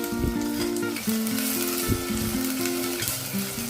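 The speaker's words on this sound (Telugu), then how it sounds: "ఇప్పుడు ఒక 1/2 టేబుల్ స్పూన్ అల్లం వెల్లుల్లి పేస్ట్ వేద్దామండి. అది కూడా వేసి బాగా ఫ్రై చేసుకుందాం." Ginger garlic paste fries in a pan with a bright, continuous sizzle, punctuated by a few sharp stirring clinks, close and without talk.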